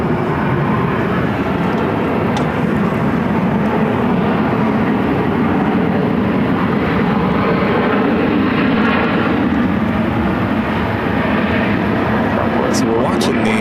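A jet airliner at Phoenix airport, bound for SFO, produces a continuous broadband engine rumble that holds steady and near, with talk faintly mixed in.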